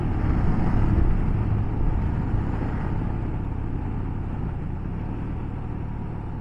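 A Royal Enfield Himalayan motorcycle rides a mountain road in Spain's Sierra de los Filabres, a steady low engine drone mixed with wind rush, loud and continuous with no voices.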